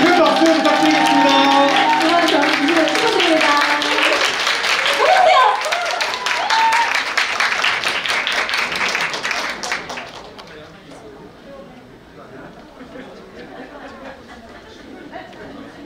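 Wedding guests applaud at a Korean wedding ceremony, a dense burst of clapping mixed with crowd chatter and background music that holds steady, then thins out and fades to quieter room murmur.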